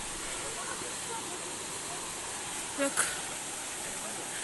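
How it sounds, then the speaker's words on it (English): Waterfall at Ourika, Morocco, roaring as a steady broadband rush of falling water that fills the whole clip, with a brief spoken word and a short sharper splash or voice near the end. "You hear the sound of waterfalls."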